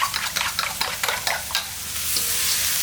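Chopped vegetables stir-fry in a hot pan for egg fried rice, a spatula scraping in quick rhythmic strokes over a steady sizzle that settles into an even, louder hiss, close up with no talking.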